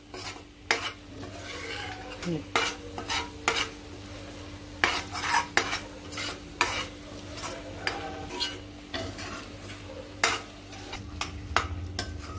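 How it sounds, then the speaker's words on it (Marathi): Ground masala paste sautéed in hot oil for a Malwani surmai fish curry: a steady sizzle under repeated scraping strokes of a spoon against the pan, close and fairly loud, with no talk. "असं चांगलं परतून घ्यायचं आहे आपल्याला 2-3 मिनिटं तरी।"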